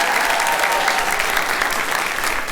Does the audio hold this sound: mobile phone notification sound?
no